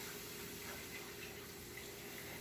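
Water is poured into gravy as a steady, faint rushing pour, continuous and uniform through the whole moment, heard alone with no voices.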